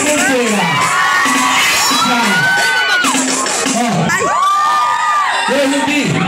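Concert crowd of women screaming at a live funk show in São Caetano, a loud dense mass of high shrieks and whoops rising and falling in waves, with a voice calling out over it.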